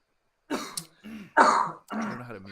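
Four rough coughs in quick succession, close and fairly loud, with short gaps between them and no talking.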